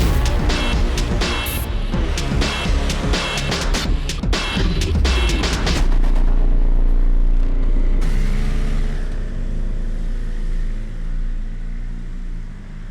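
A 212-horsepower BMW M 1000 RR motorcycle ridden hard at a test ground near Munich, its loud engine roaring and rising and falling in pitch through gear changes before settling into a steadier, more distant drone.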